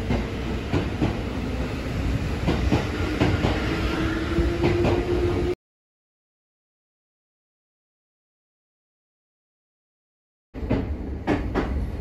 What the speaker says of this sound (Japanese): 鈴鹿線の列車はですね、3両編成での運転となっています